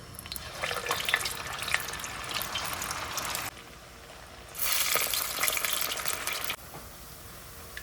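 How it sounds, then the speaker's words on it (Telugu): Garelu, lentil fritters, fry in hot oil with a dense crackling sizzle that swells loud, drops quieter for a second, surges again, then settles back down, heard close with no voices. "నూనె మరిగింది. ఇప్పుడు నేను గారెలు వేస్తున్నాను."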